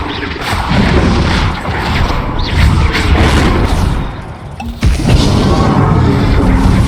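Spell blasts in the Hogwarts Legacy video game, a loud, continuous run of booming, crashing impacts with heavy low rumble, a short dip near the end and then another burst.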